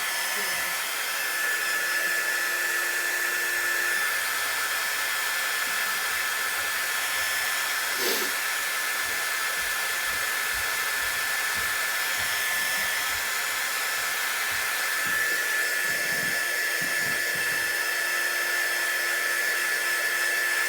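A hair dryer blows on chalk paste spread over a stencil, a loud, close, steady whoosh that runs unbroken for about twenty seconds with no voices.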